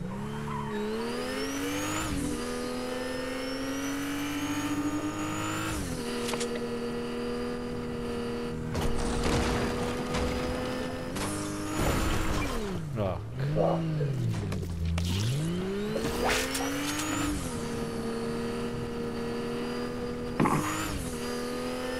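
Car engine in Fortnite revving hard while the vehicle sits hung up on a rock, a loud sustained drone that rises and falls with throttle bursts and tire squeal, with voices talking over it.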